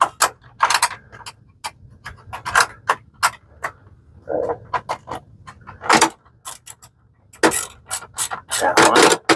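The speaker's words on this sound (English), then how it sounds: "Wish the handle on this socket wrench was just a little bit shorter." A socket wrench ratchets in short bursts of clicking while working on a Brunswick GSX bowling pinsetter, the sharp clicks coming close and irregular with brief clanks and pauses between strokes.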